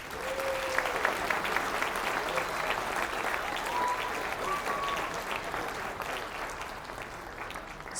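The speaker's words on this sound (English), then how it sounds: "Let's give them all a round of applause." Steady crowd applause at a college baccalaureate ceremony, a dense unbroken patter of many hands holding level for about eight seconds, with faint voices and a few brief cheers or whistles mixed in.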